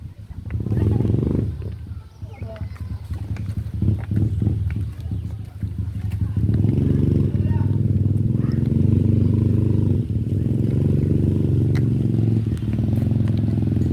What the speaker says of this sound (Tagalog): May motor ni Markel dito ah.